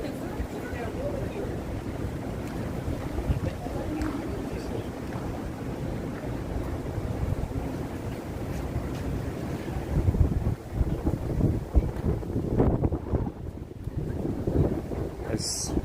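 Gusty wind buffets the microphone on an outdoor evening walk through Manhattan in New York City, a steady low rumble that swells louder near the end, with a voice talking underneath.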